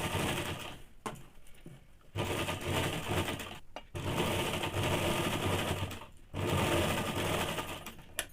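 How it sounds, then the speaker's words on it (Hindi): A sewing machine runs in steady buzzing bursts while stitching men's underwear fabric, its motor whirring loud and close, stopping briefly between three or four long runs with no talking. "अब हम लोग इसमें चाप सिलाई चला देंगे ताकि कपड़ा और मजबूत भी हो जाए"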